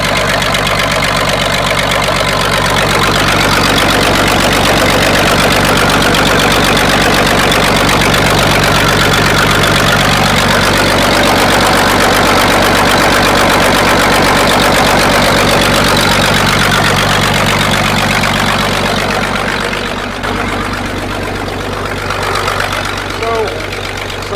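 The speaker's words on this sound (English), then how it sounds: "An old tractor motor?" An old tractor engine idles continuously, steady and loud, with a low rumbling drone and a faint rhythmic knock, dropping slightly toward the end.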